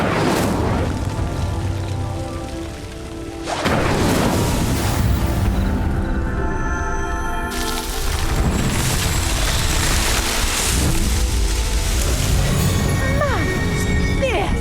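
The Incendio fire spell sets a pyre ablaze in the Hogwarts Mystery video game. A loud whoosh erupts into a sustained roaring, crackling blaze with booming surges, while music and game voices run alongside.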